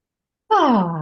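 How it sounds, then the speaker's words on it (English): After a moment of silence comes a loud, close exhale through the mouth, a voiced, sighing breath that falls in pitch and trails off, as in conscious connected breathing. "it's called a breathing through your mouth, conscious connected breathing"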